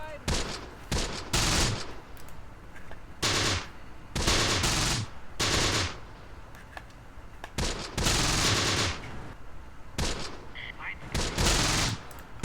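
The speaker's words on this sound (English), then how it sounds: "we are just cutting them down with Hitler's buzzsaw" MG42 machine gun in the WWII video game Close Combat firing long bursts of rapid automatic fire, repeated about every second or two, loud and close, with short pauses between salvos.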